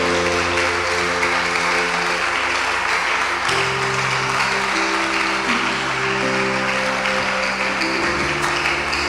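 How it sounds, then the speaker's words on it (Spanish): A church congregation applauds during a worship service, producing a thick, continuous wash of clapping over sustained musical tones underneath. "Dale ese aplauso al Señor."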